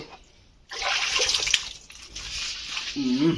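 Running water splashes steadily during a small child's bath, starting abruptly after a short quiet lead-in and continuing at moderate loudness, with a brief child's vocal sound near the end.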